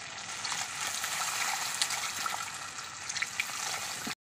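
Water goes into a sizzling pan of well-fried spice paste for a fish curry, making a continuous bright hiss and bubbling splash that lasts several seconds with no talking.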